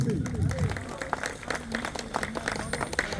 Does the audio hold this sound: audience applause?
yes